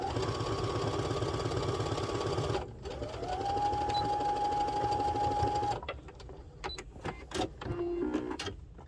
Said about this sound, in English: I'll go up to the corner, and then I will pivot the fabric, and then I will only sew to about here